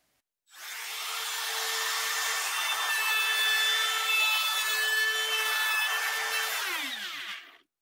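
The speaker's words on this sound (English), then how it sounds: "I readjusted my router and I just ran it again, and now it is perfect." Router cutting a circular speaker driver recess into wood. One continuous high whining cut runs about six seconds, loud and close with no talk, then the motor pitch falls away as it spins down.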